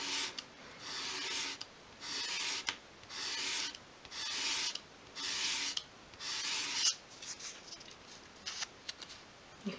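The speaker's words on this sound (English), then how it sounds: "hold the piece against the sandpaper at a 45 degree angle and sweep it towards" A small wood piece for a 1/12 scale wall shelf is held at a 45 degree angle and swept across sandpaper to bevel its edge, giving about eight steady rasping strokes with brief pauses, then lighter, quicker scrapes.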